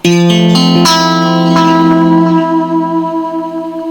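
A guitar played through a digital delay pedal set to a tape echo effect, with a few plucked notes whose warm, slightly dirty repeats trail off and decay over several seconds, loud and alone.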